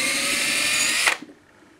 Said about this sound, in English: So I'm going to drill that out.